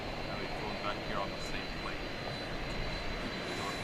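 A Cathay Pacific jet airliner arriving at Dallas Fort Worth from Hong Kong gives a steady, moderately loud broadband engine roar that stays even throughout, with faint voices underneath.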